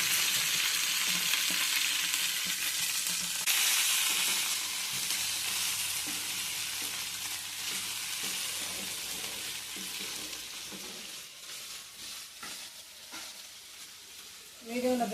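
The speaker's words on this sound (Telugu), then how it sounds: "మీడియంలో పెట్టుకొని చక్కగా వేయించుకోవాలి బెండకాయలన్నీ" Okra fries in a pan over medium heat with a steady, close sizzle and crackle, fading a little near the end as it is stirred.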